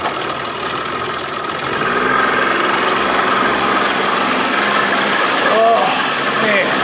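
An old Johnson 60 hp outboard motor on a boat throttles up gradually, a steady rising engine drone with water wash underneath, close and fairly loud.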